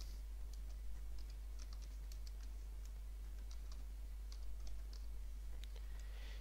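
Keys tapped steadily on a computer keyboard while a command is entered on a Windows PC to reset a user password, a quiet run of irregular clicks over a low constant hum, with no talking.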